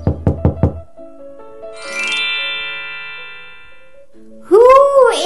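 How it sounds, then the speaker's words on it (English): Four sharp knocks on a wooden door in a children's Little Red Riding Hood story, struck by the wolf at Grandmother's house, followed by a chiming jingle and a short musical flourish. "The wolf knocks on Grandmother's door."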